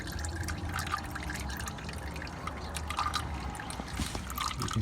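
Red transmission fluid draining from a car into a pan: a continuous close trickling and dribbling stream with light splashing, steady throughout.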